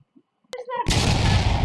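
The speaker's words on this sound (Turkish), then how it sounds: "Yani patlama efekti yaptık." An explosion sound effect added in the Filmora video editor bursts in after a brief snap and ringing tones, then continues as a loud, sustained rumbling roar that fills the rest of the clip.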